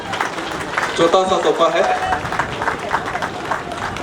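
An audience claps at a student union foundation day celebration in Palin, Kra Daadi district, with a steady wash of applause running under someone speaking over a microphone.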